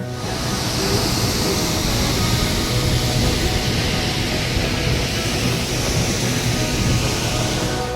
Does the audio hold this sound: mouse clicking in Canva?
no